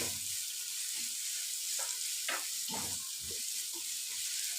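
Chopped carrots fry in a pan for rice kofta, a steady soft sizzle hissing throughout, broken by a few quiet scrapes and stirring bumps.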